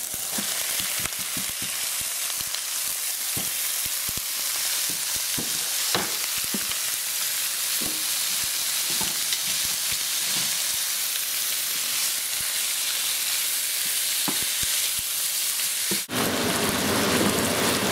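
Onions and beef fry in a pan for a beef stew, a steady broadband sizzle with scattered crackles and pops lasting throughout, close and fairly loud, with no talk.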